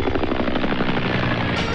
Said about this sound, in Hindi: मैं हेलीकॉप्टर में बैठकर मनाली के लिए रवाना हो गई